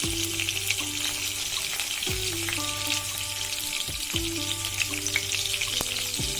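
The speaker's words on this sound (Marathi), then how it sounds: "आपलं राई जिरं फुलायला लागलं की मग आपण त्यामध्ये दोन मिरच्या टाकणार आहोत" Mustard seeds, cumin and long-cut green chillies sizzling in hot oil for a sour-sweet colocasia leaf curry, a continuous close frying hiss with sharp crackling pops, under a steady musical tone, with no voices.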